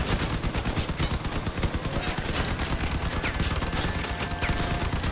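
Rapid automatic gunfire from vehicle weapons in the combat game Crossout, a dense continuous barrage of shots with overlapping bursts throughout, loud and close with no speech over it.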